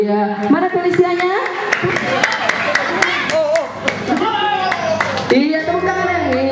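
Guests at a birthday party applaud with scattered sharp claps while voices, including a child's, talk and call out over the top, busy and close throughout.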